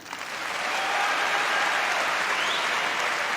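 Sustained crowd applause at a 1987 All England badminton match, a dense clapping roar that swells in the first second and then holds steady and loud with no talk over it.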